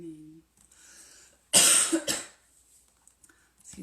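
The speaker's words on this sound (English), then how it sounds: "Excuse my little cough." A woman lets out a short burst of coughing, close and clear, in an otherwise quiet room, preceded by a brief bit of speech.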